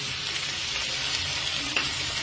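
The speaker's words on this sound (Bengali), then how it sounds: "এখন এটার সাথে একটু ফ্রাই করে নিই" Dried fish frying with onion, garlic and chillies, a continuous close sizzle with faint stirring scrapes and a small clink partway through.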